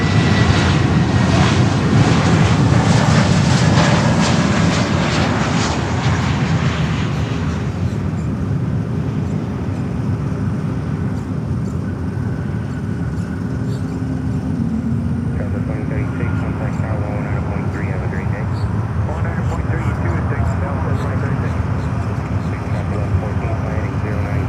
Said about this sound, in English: And we have another Spirit coming in. A yellow banana, 321 in Neo from LaGuardia.